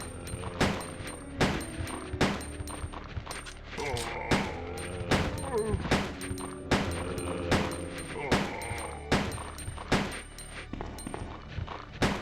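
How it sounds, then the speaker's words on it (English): Rapid, sharp handgun shots ring out in Resident Evil 2 (1998), fired in quick succession at a steady pace and close, loud, with a low sustained ambient drone underneath. "Let's burn this handgun ammo."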